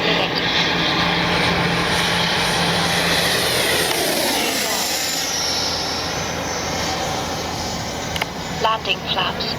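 A Freewing F9F Cougar RC jet roars steadily on a morning speed run, its electric ducted fan whine loud and sustained, shifting pitch as it passes, while someone talks over it.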